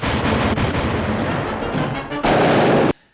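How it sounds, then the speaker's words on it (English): Rapid bursts of cartoon gunfire in the woods during hunting season crackle and boom in a loud continuous volley, ending with a heavier blast before cutting off. "The cartoon opens with gunfire through the woods."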